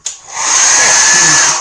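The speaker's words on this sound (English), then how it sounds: "So you go to use your blow dryer." A blow dryer switches on with a sharp click and spins up into a loud, steady, close-up whooshing whine that holds evenly until it fades slightly at the end.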